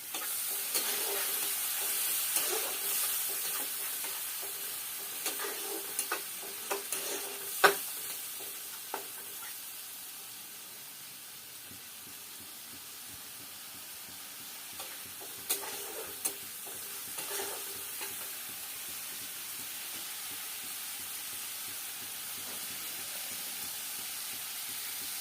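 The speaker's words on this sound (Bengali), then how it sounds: "সব ভালো করে একসঙ্গে কষতে নেব।" Prawn malaikari masala cooking with water in a pan, with a faint, steady hiss and sizzle running throughout and a few scattered light ticks and scrapes from stirring early on, with no talking.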